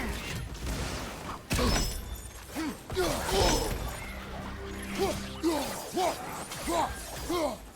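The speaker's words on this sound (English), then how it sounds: "I was wondering what the shattering noise is. The shattering noise is me losing echoes" Shattering effects as echoes are lost in God of War Ragnarök Valhalla mode, repeated glassy crash and clatter bursts amid combat whooshes and impacts, fairly loud and irregular across the stretch.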